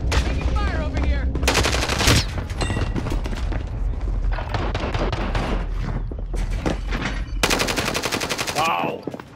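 Loud, close gunfire in a video game: dense rapid bursts of automatic fire and booms run almost continuously, with short gaps between volleys.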